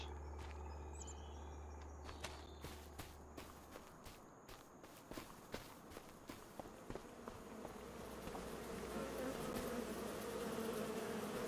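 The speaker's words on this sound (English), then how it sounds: "some bees right here." Bees buzzing around a farm in the video game Farm Sim 25, a steady insect drone heard beneath regular soft footstep thuds as the player walks past, growing louder and denser toward the end.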